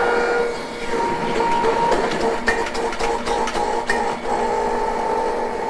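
A PURE juicer grinding and pressing leafy greens folded double, giving a steady close mechanical whir with rattling clicks and sharp crunchy bursts over about six seconds, with no one speaking.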